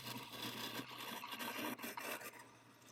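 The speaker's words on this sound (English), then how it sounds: "The lathe is the only machine where the piece moves into the cutting bit." A wood lathe turns a burl bowl as a cutting tool meets the spinning wood, giving a fairly quiet, continuous rasping scrape that rises and falls slightly in rough strokes.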